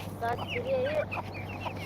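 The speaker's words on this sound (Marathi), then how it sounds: "इथं अजून नवीन पिल्लं काढण्यासाठी बसवलेली आहे कोंबडी इथं" Brooding hen sitting on eggs in a farm shed, giving a run of soft, close clucks and short rising notes over a low steady hum.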